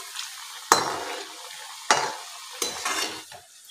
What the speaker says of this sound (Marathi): आपल्याला हे मध्यम आचेवर चांगलं लालसर रंग येईपर्यंत तळून घ्यायचे आहेत।